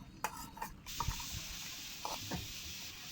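Village-style country chicken fries in a pan with a steady sizzling hiss, broken by a few sharp clanks and scrapes of a spoon stirring against the metal, with no voices.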